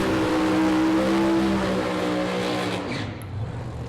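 A pro mod drag racing car roars down the strip at a British Drag Racing Championship round, a loud, sustained engine howl heard from the side that slowly fades as the car pulls away.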